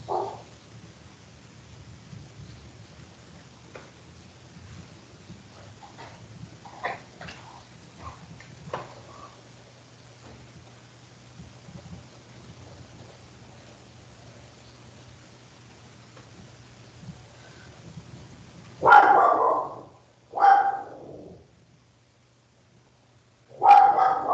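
A dog barks loudly in short bursts, three separated yelps near the end after a long stretch of quiet room hum and faint scattered sounds, in a home where a lecturer is teaching online.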